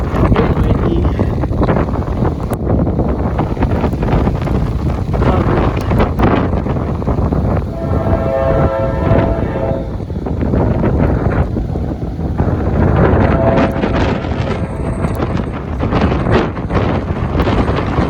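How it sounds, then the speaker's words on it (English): Strong, gusty wind buffets the microphone in a loud, continuous roar on a cold, snowy day beside railway tracks where a train is approaching, with brief tonal sounds rising through the rumble midway. "Very windy."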